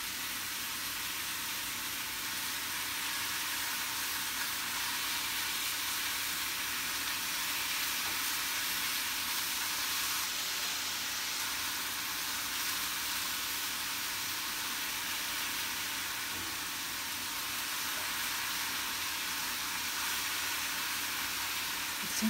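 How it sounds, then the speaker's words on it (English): Steak frying in a non-stick skillet, a loud, steady close-up sizzle that runs continuously with no speech. "Seems to be cooking pretty fast, though. The steak."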